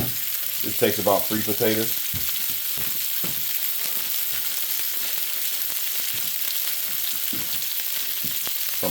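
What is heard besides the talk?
food browning in a skillet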